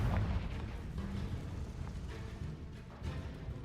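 A Confringo fire spell blast in Hogwarts Legacy, a dense rumbling explosive burst that hits loud at the start and rolls on as a sustained roar, with no talking.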